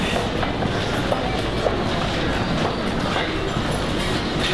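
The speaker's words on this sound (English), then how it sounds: "Trains up there, on your right, love." A train rumbles overhead above an underpass, a steady, loud rolling roar with faint clickety-clack from the wheels, with no talking over it.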